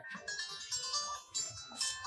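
A mobile phone ringtone chirps out a bright, steady electronic melody in a rural village setting, fairly loud and close, with no talking over it.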